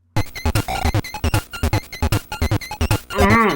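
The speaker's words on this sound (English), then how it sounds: "the star power, which now sounds like this" Chiptune star power music from the Super Mario Land 2 video game, with fast, bouncy, repeating 8-bit notes, loud and alone, closing on a brief warbling flourish.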